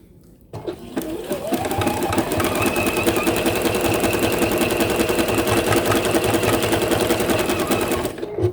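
Sewing machine running steadily as it stitches appliqué around a petal shape on a Christmas tree quilt, a continuous close, loud mechanical whir with fast rhythmic needle pulses from start to finish.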